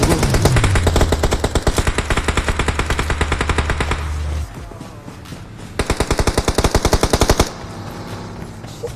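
Rapid automatic gunfire in the PUBG Mobile video game, two long loud bursts of tightly spaced shots separated by a short quieter pause.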